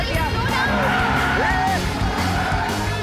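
A car is driven recklessly, its tires squealing and skidding in long gliding whines over a steady engine roar, with panicked voices shouting throughout.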